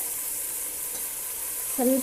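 Ground pepper and garlic paste fries in a pan for pepper chicken biryani, a constant close sizzling hiss, with a short voice breaking in near the end.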